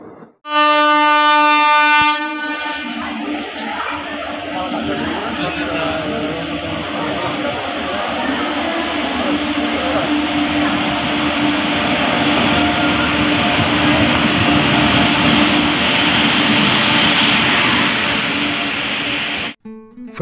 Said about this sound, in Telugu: స్టార్ట్ అయింది, ఇక బయలుదేరింది ట్రైన్.